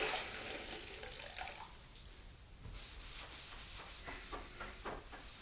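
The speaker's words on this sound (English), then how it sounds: "this side of the car." Water with Dawn dish soap is scrubbed over a car's side panel by hand, producing a close, steady wet rubbing and swishing with rhythmic strokes that sharpen toward the end.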